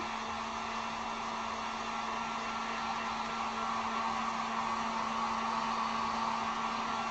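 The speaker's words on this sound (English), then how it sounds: "I'm gonna just hit this real quick with the heat gun" A heat gun blows continuously over freshly painted pink acrylic, a steady, close whooshing roar with a constant motor whine that never changes pitch or volume.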